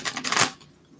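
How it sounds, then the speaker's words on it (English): Tarot cards shuffled by hand in a couple of quick riffling bursts, crisp papery flutters building to a louder snap before fading into near silence. "just a couple more shuffles here for the dear Virgos"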